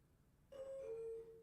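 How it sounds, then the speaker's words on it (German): An elevator chime in the video game Stanley Parable Ultra Deluxe sounds one quiet, clear two-tone ding-dong that rings briefly and fades, alone over faint background hiss. "Ding Dong."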